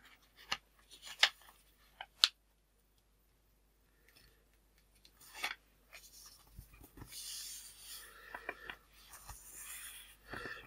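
Sheet of paper folded and creased while making a paper calculator, giving a few sharp crisp creases early on, a quiet pause, then a run of soft rustling and rubbing close by.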